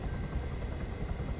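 Helicopter rotors in the Arma 3 video game beat in a steady, dense low-frequency wash with a continuous whine, close and fairly quiet, with no other sounds over it.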